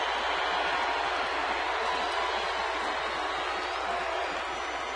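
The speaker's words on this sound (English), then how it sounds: "Crowd with a rumble" A steady crowd rumble fills a baseball stadium during a game between Florida and Arizona, a constant broad wash of noise without distinct cheers.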